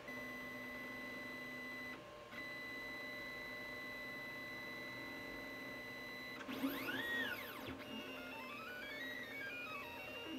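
Anycubic Chiron 3D printer converted to CoreXY, printing with a faint steady motor whine of held stepper tones, shifting pitch at moves, then sweeping rising and falling chirps as the head changes speed; no voices.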